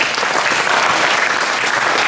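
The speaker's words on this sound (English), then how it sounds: "Go ahead and give it an round of applause." Youth basketball players at a coaching clinic applaud in a steady burst of clapping from a small group, even and close throughout a couple of seconds.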